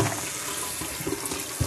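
Cold tap water running steadily over frozen apples as they are rinsed, a continuous close splashing rush with no talking.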